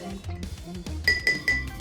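A bar spoon stirs an Old Fashioned cocktail in a glass, giving bright repeated clinks of metal against glass and ice in a steady rhythm, close by, with a voice talking underneath.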